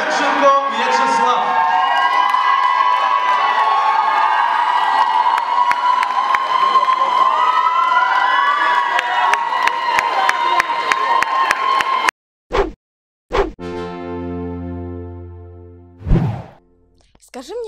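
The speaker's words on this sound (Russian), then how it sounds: "Под ваши аплодисменты" Studio audience at the Mister KPI 2013 intellectual contest breaks into loud, sustained cheering and applause for about twelve seconds, then cuts off abruptly, leaving a few short bursts and a voice.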